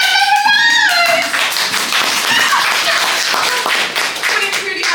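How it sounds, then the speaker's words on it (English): A small fringe-theatre audience at a London comedy preview claps loudly and closely, bursts of hands briefly overlapping a performer's voice at the start before settling into steady applause. "Can we give a huge round of applause?"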